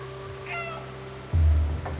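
A cat in the video game Stray meows once, a short rising call, followed by a soft thud and a faint second sound over a quiet background hum.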